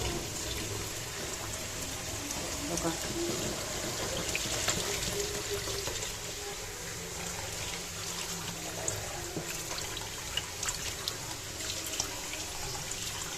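Rice being washed in water gives a continuous running, splashing wash like a tap into a vessel, steady and fairly loud throughout with no talking.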